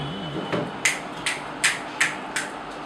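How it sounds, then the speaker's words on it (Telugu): Group finger snapping at a BNI chapter business meeting, a loose burst of crisp snaps followed by five distinct sharp clicks spaced roughly evenly, close and clear over a quiet background. "మన ఎస్ట్ గారికి డబుల్ చిటికలు"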